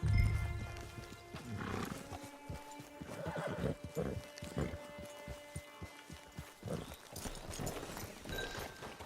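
A horse whinnies loudly over steady clip-clopping hooves in Red Dead Online, with game ambient sound underneath.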